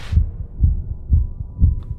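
A thumping heartbeat effect in the Backrooms video game pulses in a steady rhythm, about four low, heavy double beats in two seconds, loud and close with no speech.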